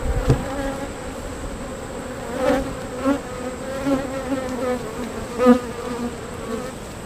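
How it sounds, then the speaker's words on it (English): A swarm of honeybees buzzes loudly and close during a late-July hive inspection, a steady dense drone that swells now and then as bees fly near. "So that bazillion bees coming at me."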